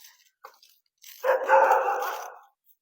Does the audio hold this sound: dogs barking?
yes